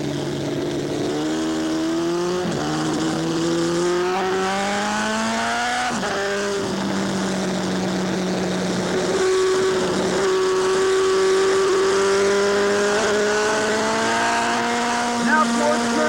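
An AMA superbike accelerating hard up a hill at Laguna Seca: a loud, close engine whine climbs in pitch, drops at each gear change, then climbs again several times.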